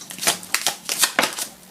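Tarot cards are shuffled close up in a quick series of soft riffling, slapping bursts over a couple of seconds.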